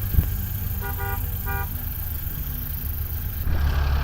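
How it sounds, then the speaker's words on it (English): A distant car horn honks in a few short beeps, faint beneath steady outdoor rumble and wind noise. "Can you honk your horn?"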